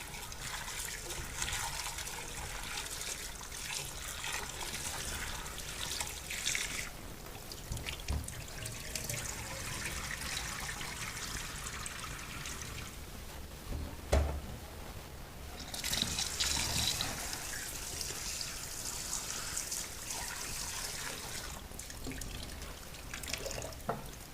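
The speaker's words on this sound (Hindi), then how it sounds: "बॉल में डालने के बाद इनको दोबारा फिर धोएंगे" Water trickles and splashes as cut potato chips are rinsed in a bowl, a soft continuous running-water sound with brief louder sloshes partway through.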